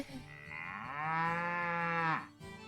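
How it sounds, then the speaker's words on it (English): A single drawn-out cow moo from Story of Seasons: Pioneers of Olive Town, rising into a loud, tonal bellow that holds for about a second before dropping off, with no talk. "These are the cows in this game."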